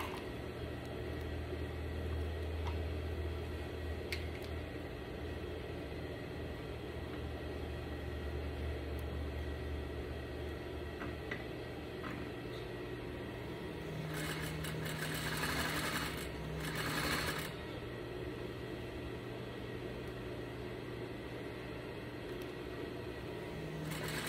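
A sewing machine runs steadily while stitching a double welt pocket on a garment, a continuous close hum and fast needle rattle that lasts throughout. It briefly rises in intensity midway, with no voices.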